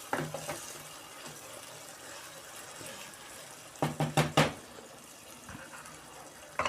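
A glass of water poured into a pot of fried potatoes and peas in a home kitchen, starting with low sizzling, then a short cluster of loud splashing pours near the end, no talk.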